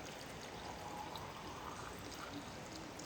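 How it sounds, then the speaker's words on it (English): Boiling water pours into a glass jar in a soft, steady trickling stream, faint and continuous for a few seconds. "pour some boiling water into the jar until basically a ½ inch off the top"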